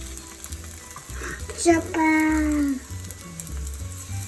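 Pancake batter, coloured green, frying in a pan in a home kitchen, a steady sizzle under children's chatter, with a brief louder tonal squeal partway through.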